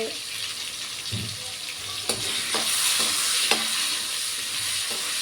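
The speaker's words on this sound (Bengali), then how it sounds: "এই দেখো, আলু ভাজা হচ্ছে।" Potatoes salted in a pan fry with a continuous hiss, broken by several distinct scrapes and knocks of a spatula stirring them, close and fairly loud with no talking.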